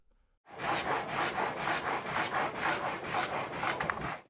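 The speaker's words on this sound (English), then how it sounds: "The drive shaft moved it up and down, driving the blade through the wood on each downstroke." A frame saw in a water-powered sawmill cuts through wood, making a continuous rasping sound with a steady, rapid rhythm of strokes, close and loud with no voices.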